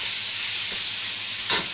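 Shrimp frying in a pan for creamy garlic shrimp, a steady bright sizzle that holds evenly throughout with a small crackling spurt near the end, close and alone with no talk.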